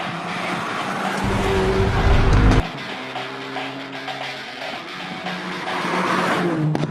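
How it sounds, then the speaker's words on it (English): A 2019 Hyundai i30 Fastback N accelerating hard through curves, with a loud, rising engine roar, a deep surge in the middle, then shifting revs and tire noise as it carries on. "it roars precisely and extremely fast through the curves"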